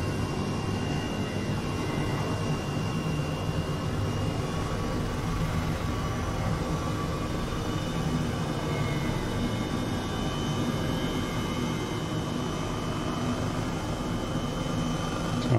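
A helicopter spools up for takeoff in Microsoft Flight Simulator 2020, heading for Iceland's Fagradalsfjall volcano, giving a constant droning engine and rotor roar with steady tonal whine, loud and unbroken throughout.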